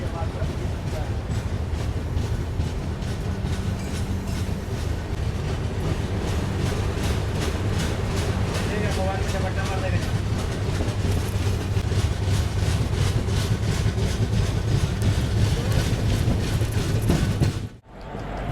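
12565 Bihar Sampark Kranti Express, Darbhanga to New Delhi, running on rails near Badshahnagar station in Lucknow: a steady, loud rumble with rhythmic clickety-clack of wagons throughout, ending in a brief dip near the close.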